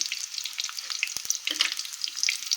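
Whole spices including bay leaf, cloves and black pepper drop into hot oil for corn biryani, giving a close, crackly sizzle with scattered pops and a couple of brief knocks, no talking.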